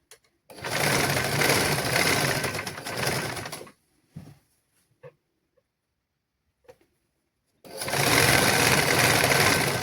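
A sewing machine stitches sarong cloth in two loud steady runs separated by a quiet pause with a few small clicks and handling taps.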